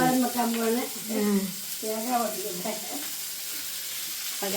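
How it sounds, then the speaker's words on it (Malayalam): Sliced onions sizzle softly as they sauté in a pan for sardines baked in banana leaf, a low steady frying hiss beneath a voice talking close by. "അങ്ങനെ സവോള ഇട്ടിട്ടുണ്ട്. ഇനി അത് വഴറ്റിയെടുത്തോണ്ടിരിക്കുക."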